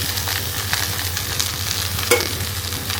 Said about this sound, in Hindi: भिंडी फ्राई हो चुकी है और अब मैं इसमें डाल दूँगी प्याज